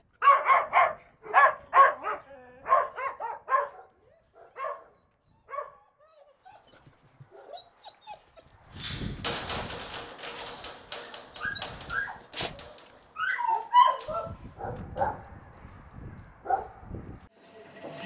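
Several dogs bark and yip in kennel boxes at an animal shelter, bursts of barking near and far with whimpers between, more dogs joining in a busy clamour later on.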